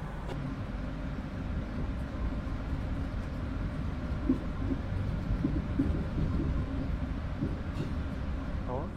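KA Argo Lawu passenger train pulling away from Purwokerto station, heard from on board as a steady low rumble of wheels and carriage, with a voice talking over it throughout.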